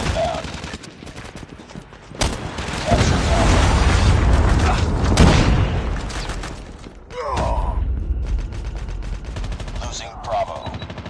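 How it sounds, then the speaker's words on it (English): A Predator missile strike in a multiplayer shooter game lands as a loud, sustained rumbling explosion with crackling gunfire, following bursts of automatic fire, with more shots and impacts trailing after. "Predator missile inbound."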